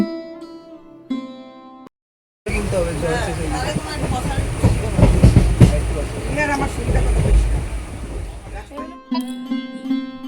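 A passenger train runs on the Teesta Torsa line with a steady, loud rumbling ride noise heard from inside, framed by short stretches of music before and after.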